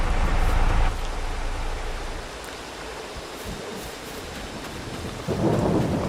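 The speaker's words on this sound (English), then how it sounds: "the rain is getting ready to start" Rain and thunder in Farming Simulator 22, a steady hiss of rainfall with deep rumbling thunder swelling at the start and again near the end, loud and continuous with no talk.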